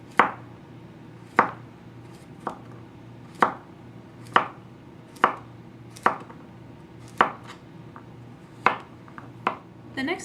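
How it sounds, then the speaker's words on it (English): Cucumbers for refrigerator pickles sliced with a knife on a cutting board, a slow, regular series of about a dozen crisp, close chops over a quiet background. "And then just proceed to slice them."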